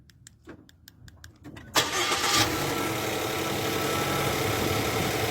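A Ford Fusion engine cranks with a series of rapid clicks, catches with a sudden roar, then settles into a steady, fairly loud idle close by, with no talking.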